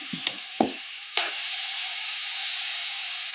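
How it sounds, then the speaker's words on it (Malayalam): Ripe nendran banana pieces roasting in hot ghee, a steady broad sizzle that stays loud and even after a few brief clatters of the pieces dropping into the pan. "അതേ നെയ്യിലേക്ക് നമുക്ക് ഈ പഴത്തിന് ഇട്ട് കൊടുത്തിട്ടൊന്ന് ചെറുതായിട്ടൊന്ന് റോസ്റ്റാക്കി എടുക്കാം"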